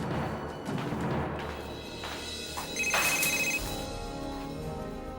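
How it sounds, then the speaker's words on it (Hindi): A phone ringtone plays in a quiet room, a bright electronic tone repeating over low background hum. "किसे फोन लगा रहे हैं आप? मनीष को।"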